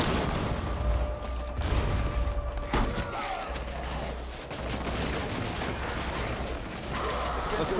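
Frag grenade blast and bursts of gunfire in a tactical shooter game, Operation Outbreak mode: dense, continuous battle noise with a sharp crack near the middle and a steady low rumble throughout.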